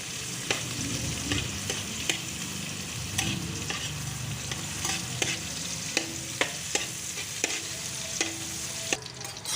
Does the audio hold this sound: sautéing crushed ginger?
yes